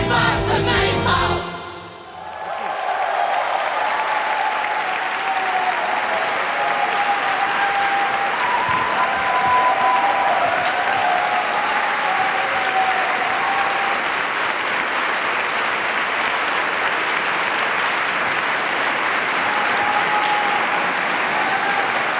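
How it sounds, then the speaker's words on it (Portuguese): A theatre audience gives a standing ovation after a song at a tribute concert, with sustained, dense, loud applause after a brief lull, steady for over twenty seconds. "Mais uma vez, uma salva de palmas, por favor."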